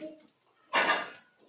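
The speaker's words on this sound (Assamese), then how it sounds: "ঢাকাটো মাৰি দিলোঁ।" A lid is set onto a kadai with a single short metallic clatter that rings briefly and fades, close by, after a quiet moment.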